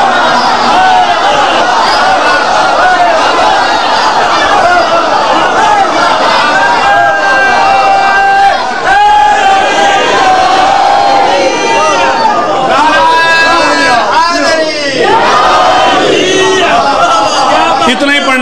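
A large gathering at a majlis chants a slogan in loud, dense unison, voices rising and falling in waves with shouts mixed through the whole stretch.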